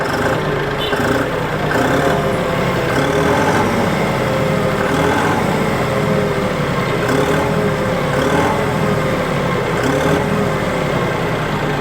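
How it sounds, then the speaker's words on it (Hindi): A John Deere 5210 Gear Pro 4WD 50 hp tractor's diesel engine idles at about 700 rpm, a constant low rumble for the whole stretch, loud and close, with no talking over it. "आइडल आरपीएम लगभग 700 आरपीएम पर आइडल है ट्रैक्टर।"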